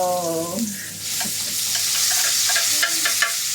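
Ginger and tomato frying in a pan, a strong continuous sizzle with stirring scrapes and small crackles, close and loud with no talking.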